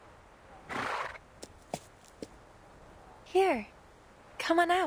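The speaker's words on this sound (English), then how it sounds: "A horse indeed." A horse in the video game Reverse: 1999 whinnies twice, with a few sharp hoof clops and a brief rustling burst before the calls, all fairly close and clear.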